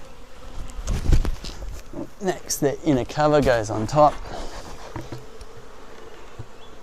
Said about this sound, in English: the bees are a bit grumpy about me dropping the frame